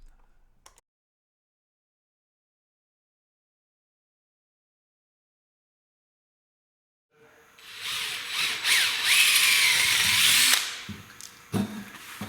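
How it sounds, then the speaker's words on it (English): A power drill whirs loudly through soft metal after a long silence, oversize-drilling a hole to 3/16 inch, grinding steadily for several seconds before slowing and stopping. "I'm going to oversize drill it to 3/16"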